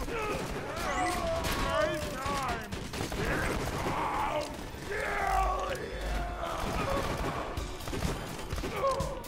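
Pistol gunfire during a Borderlands 2 firefight, dense bursts of shots mixed with game effects and chaotic combat noise, with voices talking over it throughout.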